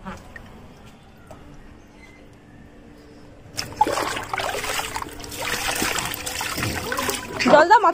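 Water splashes and trickles over a two-year-old's head at a home birthday bath, starting abruptly after quiet talk and continuing as a steady wet pour with splatter, voices audible throughout.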